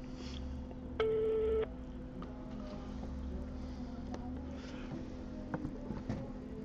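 A brief steady electronic tone from an unmuted phone, a busy or ringing signal lasting about half a second, sounds clearly over a faint room hum with scattered small noises.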